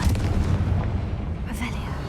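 Confringo fire blast spell cast in Hogwarts Legacy inside the Feldcroft catacomb, a deep booming burst with rumbling low end, heard once and fading, with a brief sharper crackle near the end.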